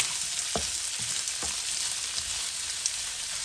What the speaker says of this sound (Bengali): রসুন, পেঁয়াজ, কাঁচামরিচ ভেজে নেব।